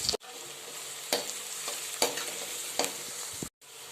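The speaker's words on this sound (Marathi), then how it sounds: "आता हे आपण छान लालसर जास्त लाल नाही करायचं पण छान परतून घेऊया" Green chilies, onion and garlic sauté in a hot pan with a steady close sizzle, broken by several sharp spatula scrapes and stirs, with no voices.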